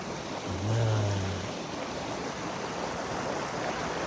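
A steady rushing of a small, clear river flowing over stones in Tigbauan, Iloilo, continuous and fairly close, with no voices.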